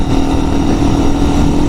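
Hartford CD 150, a Chinese 150cc motorcycle, with its engine running in a loud, steady low throb, close up and unbroken for a couple of seconds.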